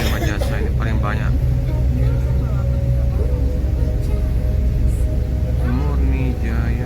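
Dense city traffic with Prima Jasa buses crawling through a jam in Jakarta: a constant low engine rumble and road noise, with nearby talk running over it throughout.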